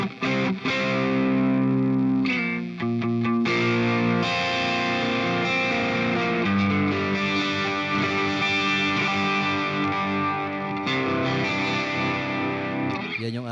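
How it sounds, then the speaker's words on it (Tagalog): Electric guitar played through an M-VAVE Tank G multi-effects pedal with amp and cabinet simulation, delay and reverb engaged, giving a loud, continuous, distorted tone with sustained chords and ringing repeats. "Ibig sabihin, meron siyang delay, meron siyang reverb, at meron din siyang amp."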